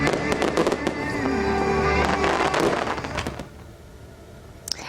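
Fireworks burst in rapid crackling volleys at a summer display in Japan, loud dense explosions and sparkling crackles that thin out toward the end, with a faint voice underneath.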